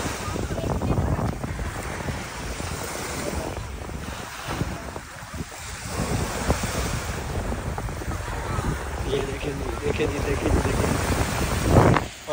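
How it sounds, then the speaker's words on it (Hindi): Sea waves wash onto the shore at Port Dickson beach while strong wind buffets the microphone, a continuous rough roar with surging surf and occasional louder gusts. "और समुंदर की लहरें, चेक करें।"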